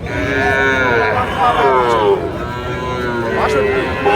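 A Sahiwal bull lets out long, loud moos close by, one after another, with other voices and murmuring in the background.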